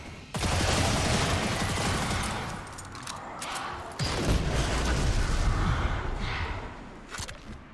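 Sustained automatic gunfire in the video game Destiny 2 as grates are shot out, dense loud bursts with heavy booming impacts, continuous over several seconds with a brief dip midway.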